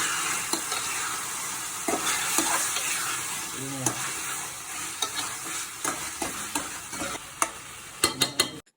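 Chicken stir-fried with spice paste in a pan sizzles steadily, with a spatula scraping and clattering in irregular knocks that grow sharper and more frequent toward the end.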